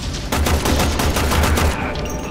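Rapid bursts of gunfire in the shooter game Warframe, loud and dense, with repeated shots running for about two seconds before easing off.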